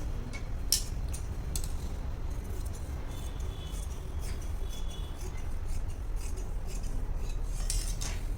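Scissors cut through blouse fabric during dressmaking, giving faint, sparse crisp snips and rubbing over a steady low room hum, with no voices.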